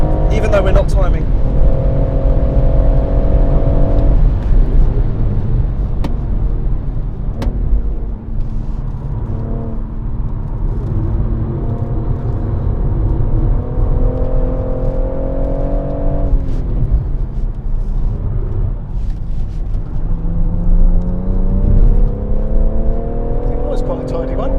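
BMW M140i engine lapping the Goodwood circuit, heard from inside the car, a loud continuous drone that rises through the gears and drops on shifts, with people talking over it.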